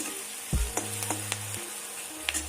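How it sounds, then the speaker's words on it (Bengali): Onions fry with salt in a pan, giving a soft continuous sizzle with a few light clicks from stirring. A low tonal hum runs underneath, and there is no talk. "নুনটা দিয়ে একটু পেঁয়াজটা ভাজা ভাজা হবে"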